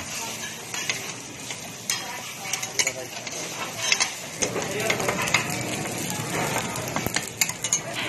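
An egg frying in a pan for kimchi rice, a steady soft sizzle with irregular clicks and scraping of a utensil against the pan, no talk.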